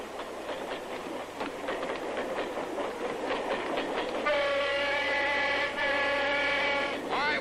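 A train rolls along the rails with a steady rhythmic clickety-clack that is loud and close, and a sustained horn or whistle blast joins in the second half. No one speaks.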